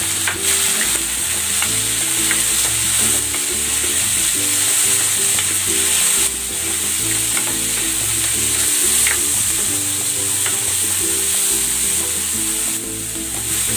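Onion and tomato sizzling in hot oil in a frying pan, a loud continuous crackle with a rhythmic pattern of stirring scrapes running through it, close up and without speech.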